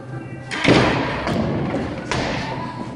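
A 2014 FRC robot prototype launcher firing a ball during a targeting test, a sharp mechanical thump followed by a few lighter knocks and a second thud, close and loud over faint room noise.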